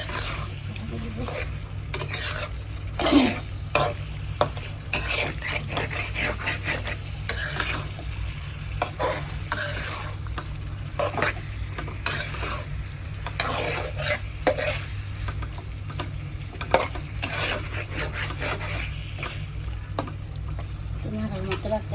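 Liver stir-fried with green chillies in a pan gives a low continuous sizzle under repeated scraping and stirring strokes, with a steady hum in the background.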